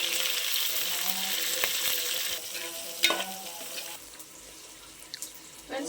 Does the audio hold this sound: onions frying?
yes